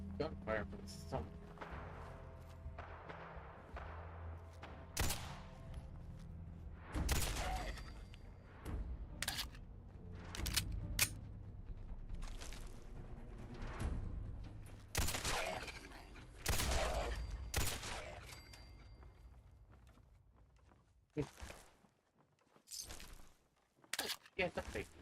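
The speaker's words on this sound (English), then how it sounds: "Gunfire from somewhere." Gunfire in Fallout 4 comes as scattered sharp cracks and bursts, some heavy and close, mixed with impacts and game noise while a player talks over much of it.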